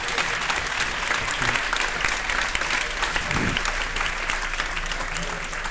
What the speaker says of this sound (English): I would like you to please give a massive round of applause to all four of these very fine people